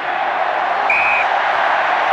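A rugby stadium crowd of nearly 24,000 gives a standing ovation after a 1997 Brumbies versus Hurricanes semi-final win. Loud, sustained cheering and applause wash over everything, with a brief whistle-like tone partway through.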